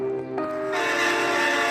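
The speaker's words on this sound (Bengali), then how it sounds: "সঠিক সময়ই ট্রেন এলো" A train pulls into a station: a sustained horn-like tone gives way to a loud, steady rushing roar of the approaching train.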